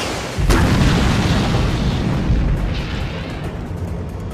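A movie bomb explosion blowing up roads, a sudden heavy boom followed by a long loud roar and rumbling debris that slowly fades.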